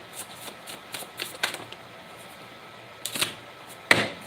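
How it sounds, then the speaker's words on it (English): Tarot cards being shuffled by hand in quick riffling bursts, a few short rustling flurries separated by pauses, close and fairly quiet with no talking. "3 more shuffles."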